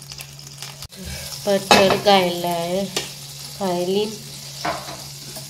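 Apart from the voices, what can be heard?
butter frying in a pan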